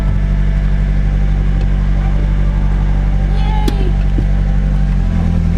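Nissan S13 fitted with a stage 3 clutch pulling away, a loud, close, steady low engine rumble with a brief shift in pitch near the end and occasional faint voices.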